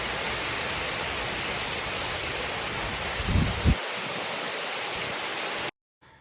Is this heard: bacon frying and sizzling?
no